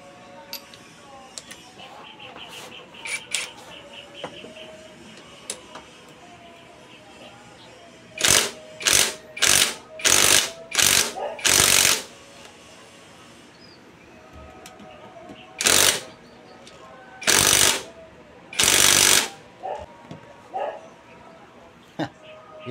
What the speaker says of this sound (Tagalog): Kahit yung power impact tools natin hindi na siya kinakaya.